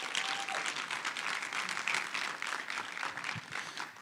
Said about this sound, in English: Let's give UDDG a good round of applause.